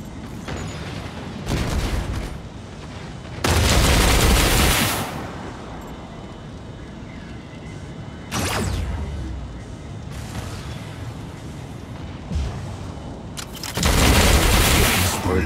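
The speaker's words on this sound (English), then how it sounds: "I got him again with the Caustic Blast." The Caustic Blast weapon fires in the mech combat game Mech Arena, several loud bursts of blasting and booming spaced across the stretch, standing out over a steady background of game noise.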